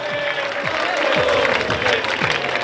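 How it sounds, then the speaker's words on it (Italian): Crowd applauding the president of a football club at a centenary gathering, a dense continuous patter of clapping with crowd noise, sustained and fairly loud with a faint voice underneath. "io chiedo un grosso applauso"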